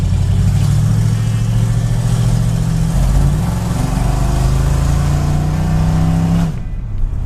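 A 1969 Chevy C10 CST pickup's engine accelerates loudly and close, a deep throaty drone that rises and holds before cutting off near the end, with no voices.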